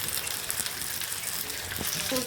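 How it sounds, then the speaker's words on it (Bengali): Tilapia fish grilling on a barbecue, giving off a steady, dense sizzling hiss that runs throughout at moderate level, with a faint clink near the end. "মাছটা আবার উল্টিয়ে দিব, ওই পিঠ ভাজা হয়ে গেছে।"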